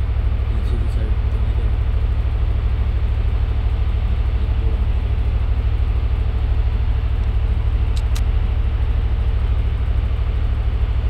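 Steady low vehicle engine drone in a Free Fire battle royale match, loud and continuous throughout, with a couple of faint high clicks over the constant rumble.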